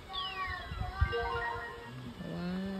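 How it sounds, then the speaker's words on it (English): A VTech My Laptop toy plays a recorded cat meow, a drawn-out wavering cry with sliding pitch that sounds a couple of times at moderate loudness. "Cat."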